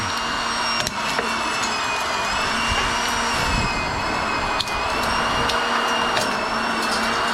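A motor runs steadily with a constant whine and hum, close and fairly loud, broken by a few faint knocks, and nobody speaks.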